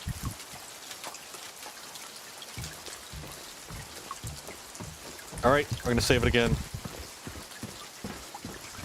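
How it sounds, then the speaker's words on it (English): Steady rain falls in the Silent Hill 2 video game, a constant soft patter running throughout, with someone speaking briefly over it midway. "All we hear is the rain."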